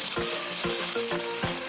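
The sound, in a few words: seasonings sautéing in a pan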